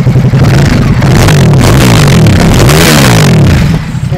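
A red Ducati SuperSport S motorcycle engine revs loudly and continuously up close, rising and falling in pitch through several throttle blips with mechanical clatter underneath.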